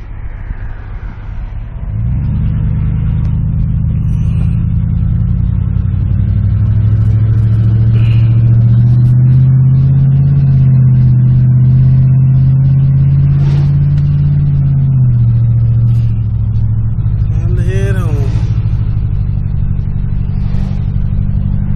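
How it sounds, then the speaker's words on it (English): Road traffic rolling past a construction site: a loud, near, steady engine drone and tire rumble as vehicles pass, rising and holding before easing off, with a brief higher squeal near the end. "Oh my goodness, look at all this traffic."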